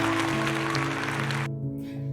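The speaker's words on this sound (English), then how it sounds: "That's my pause for applause." An added applause sound effect: a dense wash of clapping over a low steady hum, running for about a second and a half before cutting off abruptly to near silence.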